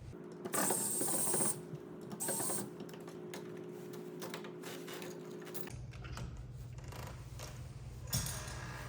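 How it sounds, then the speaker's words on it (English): A long screw is backed out of a Schlage Camelot exterior entrance handleset, giving soft, quiet mechanical clicks and ratcheting turns with a faint steady hum underneath and a few sharper ticks. No one speaks. "We're going to unscrew this. Pretty long screw."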